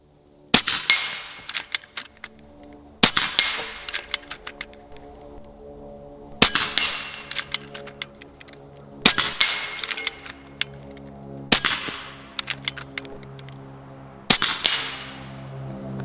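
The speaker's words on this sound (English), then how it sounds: "I want to see if these pellets will actually drop that star." Pellets from an AEA HP MAX 357 air rifle smack a steel Texas Star target outdoors, six sharp metallic clangs spaced a few seconds apart, each ringing briefly before fading, with no talking.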